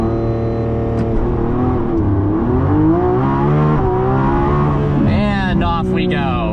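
A Lamborghini Revuelto set to Corsa mode sits idling with a loud, deep drone while someone talks over it, then the engine note climbs sharply as the car launches from a standstill near the end.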